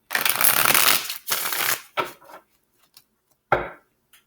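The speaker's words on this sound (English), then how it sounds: "I do shuffle my cards and I cleanse everything in between my readings" Osho Zen Tarot cards shuffled by hand, a long dense riffle followed by a second shorter burst and a few softer flicks, ending with one sharp tap of the deck, close and loud with no talking.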